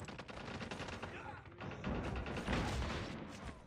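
Pistol gunfire in a ranked first-person shooter match, heard as rapid clusters of sharp shots layered with game effects and bursts over a busy, fairly faint mix.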